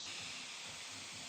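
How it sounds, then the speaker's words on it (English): Spray lacquer hissing steadily from an aerosol can onto a turned wooden football, a close, continuous airy spray with no talk. "I finished it with spray lacquer,"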